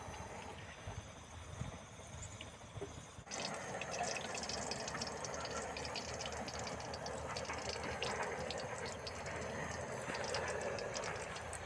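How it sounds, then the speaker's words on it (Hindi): Oil goes into a karahi for a red karahi cooked outdoors in a village, setting off a loud, steady sizzling hiss that jumps up suddenly and keeps going without a break. "अब उस्ताद जो है तेल डाल रहे हैं।"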